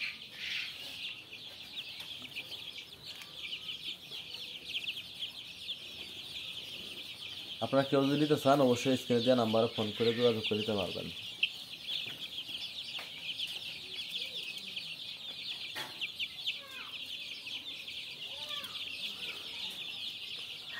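Tiger chickens on a poultry farm clucking and chattering steadily in the background, with a louder burst of fowl calls midway, under a continuous high insect-like hiss and someone talking over part of it.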